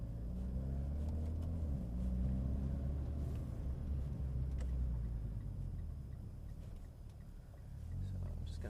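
An Evo X MR rolls along a slushy road with a low, steady rumble and faint wet road noise, interior hum dominant, a few light ticks and clicks scattered through.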